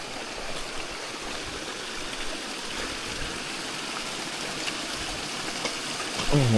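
A small mountain stream runs over mossy rocks beside a jungle trail, a steady broadband rush of flowing water close by throughout, with no voices.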